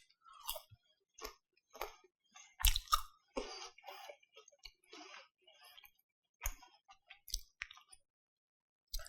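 Crunchy homemade tortilla chips are chewed close up, producing sharp, irregular crunches and crackles separated by brief quiet gaps, loud against a silent background with no speech.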